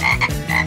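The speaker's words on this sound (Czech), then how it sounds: "Žába?" A frog gives a short series of loud, close croaks in quick rhythm, standing alone without any talk.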